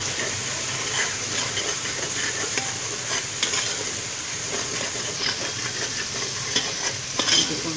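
Garlic and chicken for a desi chicken dish fry and get stirred in a pan, a steady close sizzle with scraping stir strokes and bursts of steam hiss throughout, no voices.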